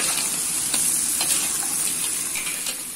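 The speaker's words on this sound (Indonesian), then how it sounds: "kita kobok-kobok biar meresap ikan" Fish balado, spicy Indonesian fish in chili sauce, sizzles steadily in a hot pan while being stirred by hand, with soft, irregular scraping strokes over a constant close frying hiss; no talking.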